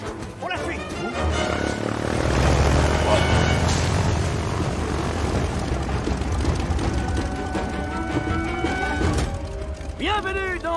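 A propeller airplane engine in a Jumanji: The Next Level film scene drones loudly and continuously with a rattling, churning texture, while voices talk over it and a high squeal rises near the end.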